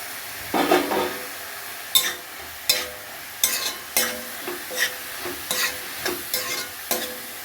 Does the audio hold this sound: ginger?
yes